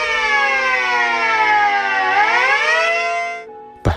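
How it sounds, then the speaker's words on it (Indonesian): A loud civil defense siren wails steadily across a large city in memory of 9/11, its pitch dipping and rising again before fading out, followed by a brief sharp knock at the end. "sirine berbunyi di seluruh kota besar sebagai tanda"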